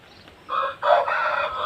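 A rooster crows at a chicken coop in a village in the morning, a loud, close call of two or three drawn-out phrases with no voices over it.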